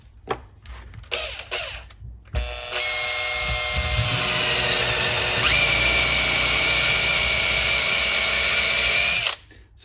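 A power drill with a 10 mm bit whines steadily for several seconds after a few short bursts, its pitch shifting slightly midway as the bit bites in, close and loud, working on a mountain bike rear suspension part.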